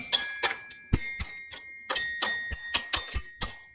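A toy xylophone struck in a quick, irregular run of bright metallic notes, close and clear with ringing overtones and no talking.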